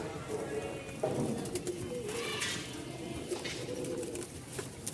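Giribaz pigeons from Rajshahi coo softly and repeatedly in a loft, faint and steady beneath low background noise and a murmur of voices.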